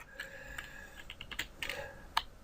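Light tapping on a computer keyboard, a few quiet scattered keystrokes in a short irregular run, close and soft with no voice.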